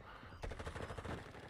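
Rapid bursts of video game gunfire break out after a brief quiet moment, a dense stuttering volley of shots in a tactical shooter match, fairly loud and continuous to the end.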